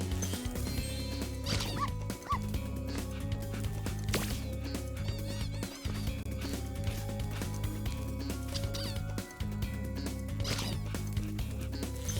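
A puppy character in Spyro 3: Year of the Dragon yips and barks in short bursts over continuous game music and effects, without talk.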